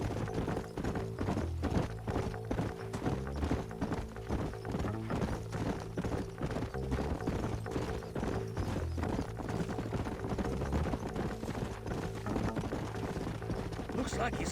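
Horses trot steadily in a cowboy video game, a continuous brisk clip-clop of hooves with a rolling rhythm, heard beneath people talking.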